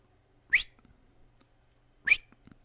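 A person whistles twice, imitating a barman's whistle: two short, sharp rising whistles about a second and a half apart, close and clear against near silence.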